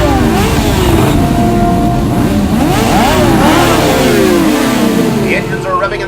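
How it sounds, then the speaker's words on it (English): At the start of a desert ATV race, several quad engines rev loudly at once, their whining pitches rising and falling in overlapping sweeps for about six seconds. "The engines are revving and the starting flag has dropped."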